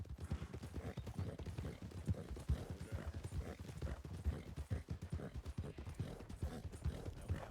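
Horse hooves trotting in the Red Dead video game: a steady, brisk clip-clop of hoofbeats on hard ground, close and continuous, with no talk.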